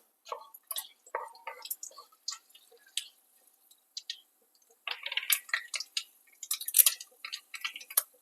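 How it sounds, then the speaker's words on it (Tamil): Mustard seeds and urad dal splutter in hot oil for a South Indian appalam kuzhambu, giving faint, scattered crackling pops that come in uneven clusters and grow denser toward the end, with no talking. "கடுகு நல்லா பொரியட்டும்."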